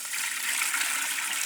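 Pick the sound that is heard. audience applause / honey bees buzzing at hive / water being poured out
water being poured out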